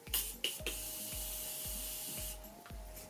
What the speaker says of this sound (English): And then I'm gonna use my new Morphe setting spray.